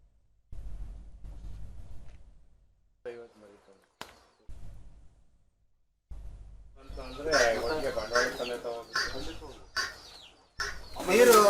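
Native country hens cluck in short bursts near a poultry shed, growing louder and busier toward the end, with people talking over them.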